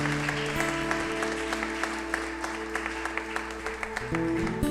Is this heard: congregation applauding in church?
yes